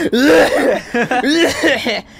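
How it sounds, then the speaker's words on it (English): Loud, close bursts of a video game character's coughing run on repeatedly, mixed with laughter, in Persona 5 Royal. "It's just a small cough."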